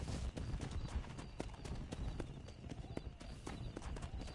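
A horse in the video game Red Dead Redemption gallops in rapid, rhythmic hoofbeats that are close and clear, with a brief neigh mixed in.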